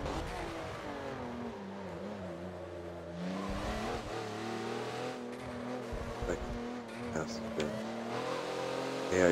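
A Porsche's engine drones and shifts pitch as it laps Yas Marina in the Forza racing game, steady and moderate with brief gear changes, under continuous commentary.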